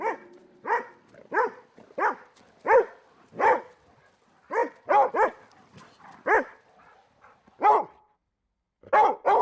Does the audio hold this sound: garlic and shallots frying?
no